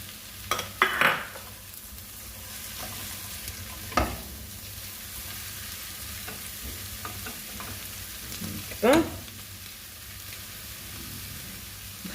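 Peppers and carrots sauté in a pan over low heat, a steady soft sizzle with a few scraping stirs of a utensil mixed in, and no voices.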